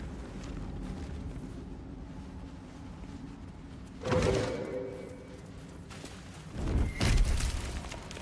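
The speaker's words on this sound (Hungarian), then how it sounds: "Aha, a gombák robbannak." Exploding mushrooms in the Underdark of Baldur's Gate 3 go off in two muffled booming bursts a few seconds apart over a low ambient game soundscape.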